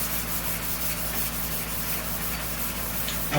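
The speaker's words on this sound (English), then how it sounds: "We're just gonna take a red Scotch Brite, go over the thing one more time" A red Scotch-Brite pad scuffs steadily across a primed car hood. The rubbing is continuous, soft and even, close by and fairly quiet, with no speech.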